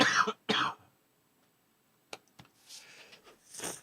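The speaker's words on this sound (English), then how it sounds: "I'm going to cough again." A person coughs twice in quick succession, loud and close, then after a pause gives a few softer throat-clearing coughs and rough breaths.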